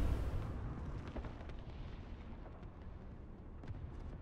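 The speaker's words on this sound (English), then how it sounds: "Last rocket I'm going to launch at him." A rocket fired in a tank video game strikes its target with a heavy explosion. The blast booms loudly at first, then leaves a long, fading rumble with a few faint pops and crackles.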